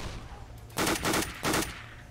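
Automatic gunfire in the Left 4 Dead 2 video game, heard as two loud, close bursts of rapid shots over a steady low background hum, with no voices.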